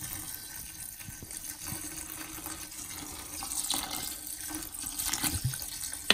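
Water poured from a bottle into a pot for sorrel tea, a steady gushing, splashing flow that runs through the whole stretch at moderate level, with no talk over it.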